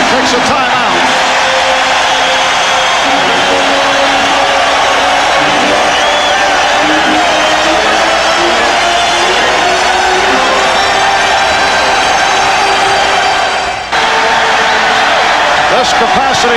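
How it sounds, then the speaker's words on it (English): A capacity crowd at a 1993 NBA playoff basketball game between the Bulls and Knicks roaring loudly and continuously in the arena, with a commentator talking over the din. "This capacity crowd reacting to the Knicks moving within 2."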